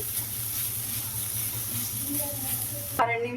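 Grated beetroot for halwa fries in a pan with a continuous soft sizzle over a low hum, ending in a sharp clink and a brief stir.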